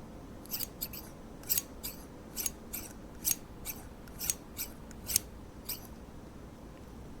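Barber scissors snipping in a quiet room, about a dozen crisp metallic cuts at an uneven pace, close by and alone.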